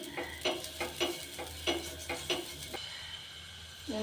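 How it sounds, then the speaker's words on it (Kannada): Wheat flour dosa batter hits a hot pan with a steady sizzle, broken by a run of rhythmic scraping clicks, then fades to a quieter hiss, with a faint clink at the very end. "ನೋಡ್ರಿ, ದೋಸೆ ಹಾಕ್ತಿದ್ದೀನಿ"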